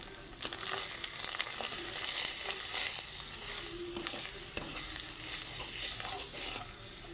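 Ground turmeric, chili, coriander and cumin with salt frying in oil, a continuous bright sizzle with scattered crackles and occasional spoon scrapes, close and steady with no talking.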